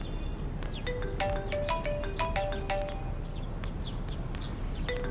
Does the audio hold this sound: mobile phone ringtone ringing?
yes